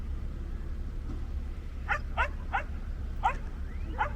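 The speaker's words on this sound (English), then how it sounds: "This dog's over here rounding them up." A dog herding horses in Patagonia barks five times in short, spaced bursts, moderately distant, over a steady low outdoor rumble.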